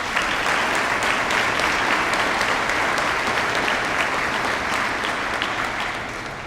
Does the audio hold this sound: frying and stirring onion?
no